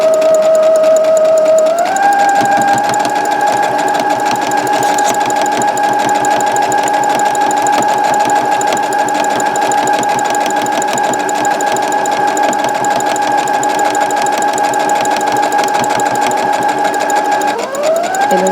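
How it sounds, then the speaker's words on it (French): A sewing machine stitches fabric for a snood in one long, unbroken run, its steady mechanical whir loud and close, shifting pitch slightly as it speeds up near the start and slows at the very end. "on va pouvoir coudre tout le long"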